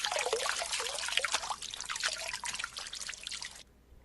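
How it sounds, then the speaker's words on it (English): Bathtub water sounds play as a soft, steady trickle and splash of running water, fairly faint, ending abruptly after a few seconds. "Does it make you feel more comfortable when we play bathtub sounds?"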